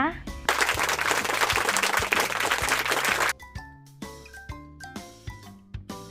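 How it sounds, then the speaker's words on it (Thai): Applause and cheering for the children in a Thai-language kids' lesson, a dense burst of clapping for about three seconds that stops abruptly, followed by light chimes and tinkling effects. "ปรบมือให้คนเก่งของทิชเชอร์ทุกคนเลยนะคะ"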